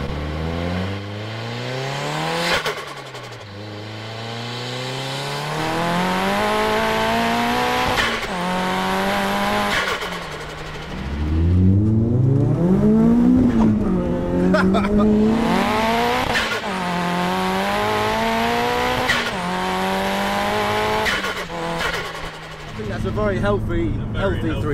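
Nissan S13 fitted with a Honda front end revs hard and pulls away, engine pitch sweeping up and down through repeated loud rev bursts and gear changes, with tyre noise, close by and dominant throughout.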